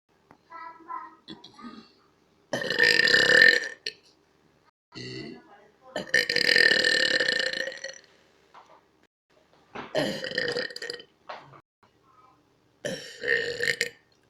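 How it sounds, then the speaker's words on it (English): Loud, drawn-out burps come one after another, four main bursts each lasting a second or more with short gaps between them, close to the mic and alone. "This video is about my burps."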